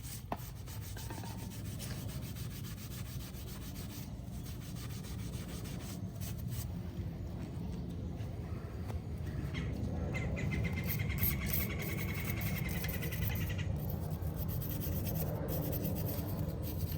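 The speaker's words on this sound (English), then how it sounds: "Brush works really good on this metal brush." A metal wire brush scrubs steadily across a Harley-Davidson V-Rod engine during cleaning ahead of a new gasket, a continuous close rasping rub with no pauses.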